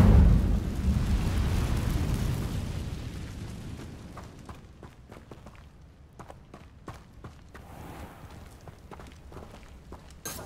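An Incendio fire spell explodes in Hogwarts Legacy: a loud whooshing burst at the start fading over several seconds, followed by quieter scattered taps and footsteps with no talk.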